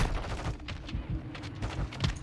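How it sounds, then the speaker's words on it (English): Rapid gunfire from a Warzone 2.0 match, dense bursts of shots crackling through the whole stretch, fairly loud and continuous with no voices over it. "I'm being shot from behind so badly."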